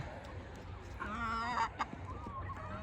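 Chickens and young fowl cluck and call close by, a short burst of squawking calls in the middle over a steady farmyard background.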